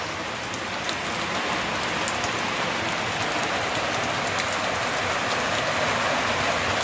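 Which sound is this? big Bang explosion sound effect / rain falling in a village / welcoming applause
rain falling in a village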